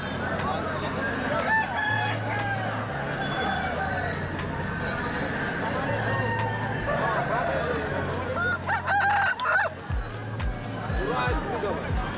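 Several roosters crow repeatedly, loud and near, amid clucking hens and a busy hubbub of people talking nearby at a chicken market.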